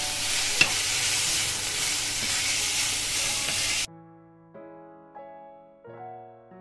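A wooden spoon stirring in a hot frying pan with mushrooms, a loud dense sizzle with a few knocks that cuts off abruptly, leaving soft ringing tones.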